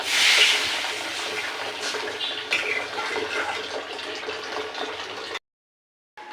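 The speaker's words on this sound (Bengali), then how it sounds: "এবার একটু ঝোল দিয়ে দেবো" Gravy liquid poured into a pan of fried potatoes, a steady continuous pouring and sizzling wash heard close for about five seconds before cutting off.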